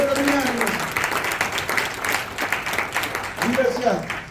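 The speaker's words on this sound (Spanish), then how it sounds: "Denle un aplauso a Dios, hermanos" Congregation applauding in a church during a Christmas service, dense continuous clapping from many hands while a preacher keeps speaking over it.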